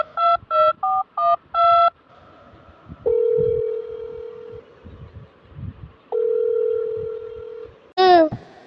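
Phone keypad tones from dialing a number: five quick beeps, then two long steady ringback tones separated by a pause, ending in a brief rising chime.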